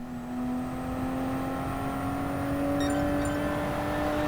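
Toyota Supra race car in a video game qualifying lap at Laguna Seca Raceway, its engine holding a steady, loud high-pitched drone that climbs slowly throughout, with a couple of brief ticks near the end.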